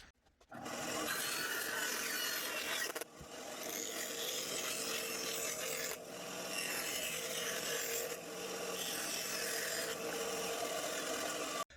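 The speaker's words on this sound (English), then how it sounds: "take it to the bandsaw and cut just the outside edge, and then we'll do the rest on the scroll saw" Scroll saw cutting wood for a trim jig, a loud steady buzzing rasp running almost continuously with a few brief pauses and shifts in tone as the blade moves through the workpiece.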